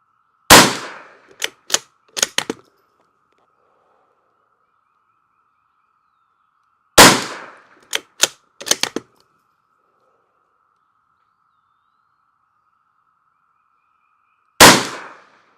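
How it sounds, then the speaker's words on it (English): Rifle gunshots fired at a target ring out in three sharp clusters, each a loud crack followed by a few quicker shots, separated by long stretches of quiet. "I shot the wrong one that time."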